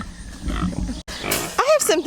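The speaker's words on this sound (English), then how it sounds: "if the pig will stop squealing" A pig squeals in rising and falling shrill bursts near the end, after a low, rumbling stretch, with a voice also present.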